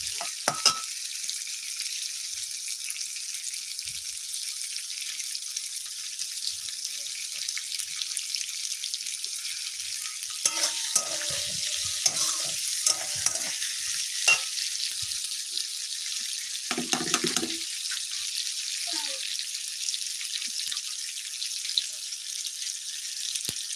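Paneer and potatoes fry with salt and turmeric, a bright continuous hiss of sizzling oil running throughout, with occasional clicks and scrapes of stirring breaking through around the middle.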